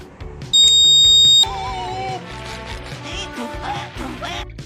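A homemade smoke and gas detector sounds one steady, piercing electronic alarm tone for about a second, then stops, leaving a low background hum with faint indistinct noise.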